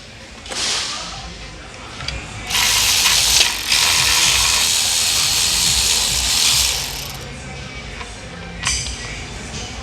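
A hand ratchet backs out special timing cover bolts on a PT Cruiser engine, giving fast, close clicking bursts, including one sustained loud run of rapid ratcheting in the middle, with no talking.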